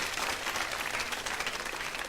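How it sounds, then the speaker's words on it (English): A studio audience applauds in a steady, dense burst of clapping that fills the short stretch from start to end, with no pauses and no voices standing out. "Can you give him a round of applause?"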